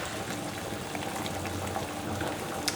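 Dumplings boil in a pot of plain water with a steady, dense bubbling and gurgling that holds even and close throughout, with no voices.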